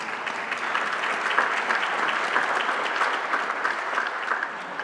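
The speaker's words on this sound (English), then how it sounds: "she deserves a round of applause" A symposium audience breaks into a loud, sustained round of applause, many hands clapping together in an even, continuous wash with no voices over it.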